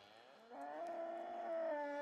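A cow in a herd near a creek lets out a single long moo that rises and holds steady, loud and close against a quiet outdoor background.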